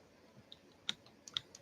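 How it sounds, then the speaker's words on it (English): Light typing on a computer keyboard: a few sparse, sharp key clicks scattered irregularly, close but quiet, with no voices. "I'm typing"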